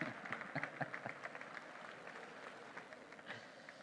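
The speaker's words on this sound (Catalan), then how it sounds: "Un aplaudiment" Applause from an audience at a public gathering, a steady wash of clapping hands continuing throughout at moderate distance.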